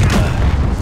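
An explosion in the video game Modern Warfare, a short, loud, low boom with a rumbling body that fills the brief moment.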